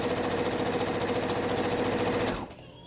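A sewing machine stitches ribbon strips onto a fluffy tutu, running in a steady, loud, rapid mechanical chatter for over two seconds before abruptly stopping, leaving a quiet room tone.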